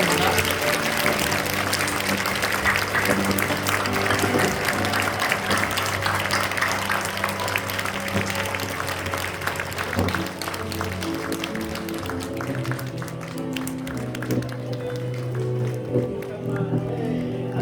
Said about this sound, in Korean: 힘차게 박수로 축복하겠습니다